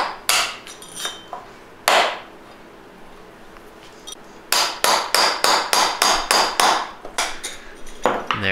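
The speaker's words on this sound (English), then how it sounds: "now I'm just going to hammer out the bushing." Sharp metallic hammer strikes driving a bushing out of a 4L60E/700R4 transmission input drum, a few scattered blows and then a rapid, steady run of about a dozen loud hits close by.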